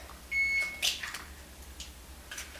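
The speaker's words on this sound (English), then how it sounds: "Sorry you guys if my oven is beeping." A single electronic beep sounds from an oven, a short steady tone followed by faint clatter and quiet background hum.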